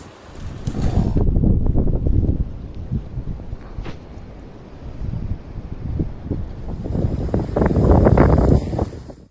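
Strong storm wind during Storm Darragh in Britain, roaring and buffeting the microphone in loud gusts that swell, ease briefly, then surge again, with no voices.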